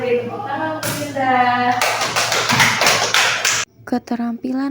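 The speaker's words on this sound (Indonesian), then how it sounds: "beri tepuk tangan untuk Dinda." Classroom applause for a student, a burst of quick hand claps from a group lasting a couple of seconds, loud and close, set between a teacher's speech before and after.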